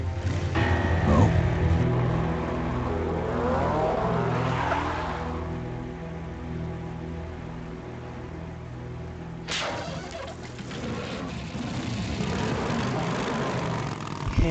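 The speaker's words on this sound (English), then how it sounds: "He had to do a wheelie." A motorcycle engine roars in the Full Throttle video game as the bike pulls a wheelie. The loud, sustained revving runs throughout, with a sharp surge of power near the end and no talking.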